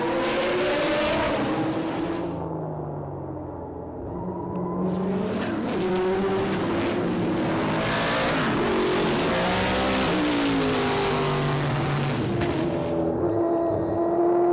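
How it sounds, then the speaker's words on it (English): A 1984 Pontiac Firebird race car and others roaring through a corner at a racing reunion event, loud sustained engine drone with shifting pitch as they brake and accelerate, tires squealing. "Your race leader coming down into turn 11 now."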